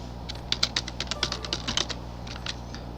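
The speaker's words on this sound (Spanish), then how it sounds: "entonces vamos a dar Enter" Computer keyboard being typed on, a quick run of close, crisp key clicks in an uneven rhythm ending with a final press of Enter.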